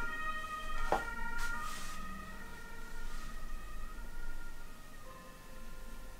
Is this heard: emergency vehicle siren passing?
yes